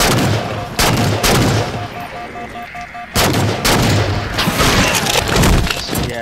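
Heavy gunfire from a weapon in Halo 4 rings out as booming shots with sharp cracks and a short pause between volleys, loud and close against a dense game background.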